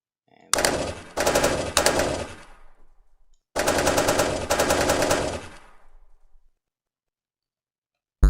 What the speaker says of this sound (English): to have your character firing weapons from any seat